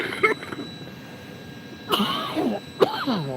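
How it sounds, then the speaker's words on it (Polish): A few rough, phlegmy smoker's coughs and throat-clearing sounds, close by, spaced out over a quiet background hum. "To jest kaszel palacza."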